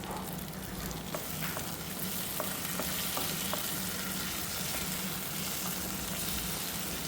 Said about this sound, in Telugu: బాగా వేగిన తర్వాత అల్లం వెల్లుల్లి పేస్ట్ వేయగలను.